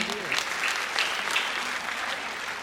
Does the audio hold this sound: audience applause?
yes